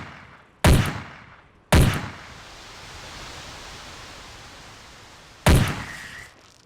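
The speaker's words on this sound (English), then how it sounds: "Two shots are what it takes to take down a Manipulator, and this one was a big one." Gunshots in the video game Carnivores bringing down a big Manipulator: three loud, sharp blasts, the first two about a second apart and a third after a long gap, each trailing off into a rumbling echo.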